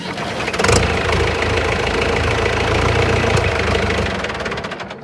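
A diesel tractor engine idles steadily up close, a continuous low throbbing rumble with a slight knocking edge that holds level for several seconds before easing off near the end.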